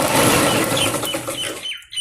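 A sewing machine stitches along a folded strip of fabric for a Patiala salwar, a short, close run of rapid mechanical stitching that stops abruptly near the end.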